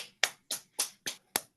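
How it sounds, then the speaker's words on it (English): A few slow, separate hand claps at a small poetry reading, about five crisp claps at a steady pace with quiet gaps between them. "Let's just give a round of applause to Patsy Kisner here."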